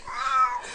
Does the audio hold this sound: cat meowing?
yes